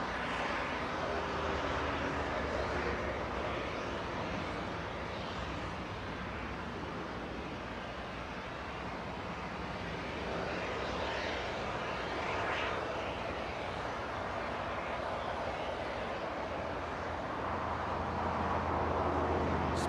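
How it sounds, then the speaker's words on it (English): Fiji Airways Airbus A350 touching down and slowing on runway 24 right at Los Angeles International Airport, a steady broad jet roar with engine rumble holding at constant loudness throughout, swelling slightly near the end, with no talk. "we're going to be waiting for that A350 to touch down and slow down on 24 right in front of Bad Bridge"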